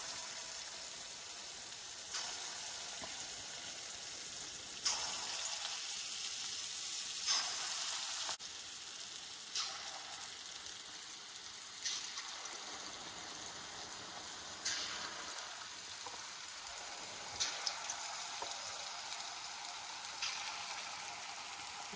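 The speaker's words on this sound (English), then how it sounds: "While pakodis are frying, my curry is simmering in the back." Steady crackling sizzle of pakoras frying in hot oil, continuous and fairly close, with bursts of louder spitting now and then.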